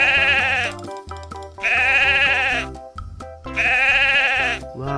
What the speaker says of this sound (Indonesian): ada kambing juga teman-teman.